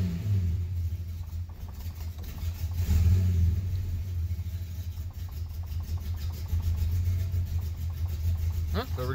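A Slant Six engine idles steadily after its valve train has been oiled, a low continuous rumble with slight unevenness and faint background noise, no one talking over it.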